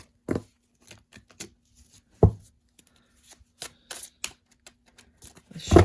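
Tarot cards being shuffled by hand: a series of short, dry riffling and tapping bursts with quiet gaps between them, close and fairly soft, with no talking.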